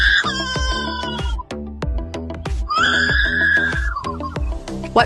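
Lyrebird call, a loud mimicking series resembling a rooster's crow and clucks, with sharp clicks and a long drawn-out high note in the middle, close and continuous.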